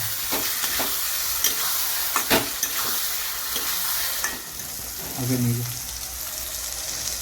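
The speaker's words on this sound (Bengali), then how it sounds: "এবার এই টমেটোর সঙ্গে পুরো মশলাটাকে ভালো করে আমি কষিয়ে নেবো, যাতে টমেটো ভালো করে গলে যেতে পারে" Spice masala cooking with chopped tomatoes in a pan for an aar fish curry, with a steady close sizzle broken by repeated spatula scrapes and stirring clatter.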